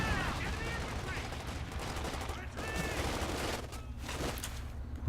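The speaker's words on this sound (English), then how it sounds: "There's some major artillery coming in somewhere. No? Oh, incendiary artillery." Incendiary artillery and gunfire in Company of Heroes 2, a dense continuous barrage of shots and booming impacts in a 2v2 battle, with faint voices mixed under the loud combat.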